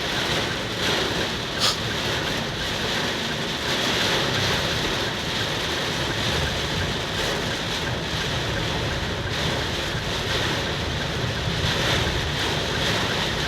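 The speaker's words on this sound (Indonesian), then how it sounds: "Cianjur hujan deras disertai angin kencang." Heavy rain and strong wind lash a main road in Cianjur, producing a steady, loud roar of rushing noise with gusty swells throughout and no voices.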